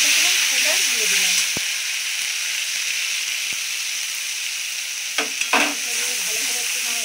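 Onions with ginger and cumin paste frying in a pan give a loud, continuous hiss and sizzle, with a few brief scrapes and knocks from stirring throughout.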